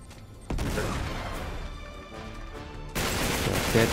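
Gunfire from a firefight against enemies aboard a rocking ship in Uncharted 3: Drake's Deception, a dense loud stretch of shots and crashes with a sharp burst near the start and another heavier burst toward the end, over game music.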